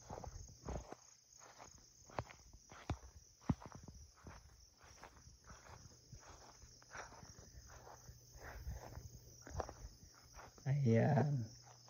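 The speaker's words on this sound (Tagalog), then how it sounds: "Napakasarap pakinggan ng huni ng kuliglig." Crickets chirp in a steady, high-pitched drone on a quiet farm, faint and continuous. Scattered footsteps and rustles sound nearby, and a brief louder noise closes the scene.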